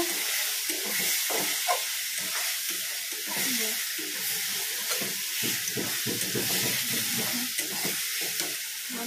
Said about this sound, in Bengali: এখন তেল গরম হল, তরকারিটা বসাই দিই